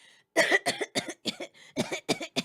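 A rapid series of harsh coughs, about eight in a row, close and loud with brief gaps between each hack.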